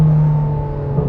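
A 2009 Ferrari 430 Scuderia engine drones steadily beneath an underpass, loud and close, holding a constant low note for about a second with no talk over it.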